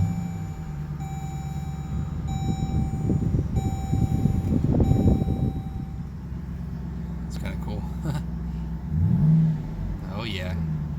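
A 2018 Dodge Durango SRT engine with a loud rumbling idle and a rev that swells and settles, heard close. Steady tonal beeps sound early on, and someone talks over it.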